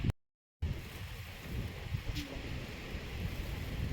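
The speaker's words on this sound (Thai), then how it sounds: "ลมแรงมากอะน่ากลัว ลมแรงมากเลย" Strong wind blows across the exposed rock formation of Three Whale Rock in Bueng Kan, Thailand. It makes a steady, rough rumble as it buffets the microphone, continuing after a brief dropout at the start.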